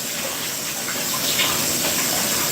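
Tap water runs in a steady, close gush while a small bowl is rinsed beneath it, the splashing shifting slightly as the bowl moves, with no talking.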